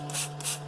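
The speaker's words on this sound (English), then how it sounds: "I put my spray bottle over here to kind of help it" Short bursts from a hand spray bottle misting water over ash and bond wire from gold recovery of IC chips, two or three quick hissing squirts close by over a steady low machine hum.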